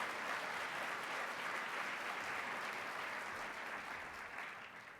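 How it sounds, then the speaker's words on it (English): Audience applause at a community college national event, a dense continuous clapping from a large crowd that fades slightly toward the end. "Please give these two gentlemen another round of applause."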